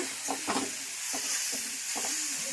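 Grated carrots fry in ghee for gajar halwa, a soft steady sizzle broken by several scraping stirs at an uneven pace, close by and moderately quiet.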